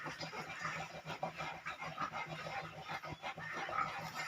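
Rapid, rhythmic dry panting from a heavily pregnant sow past her farrowing date, steady breaths close by with no talk.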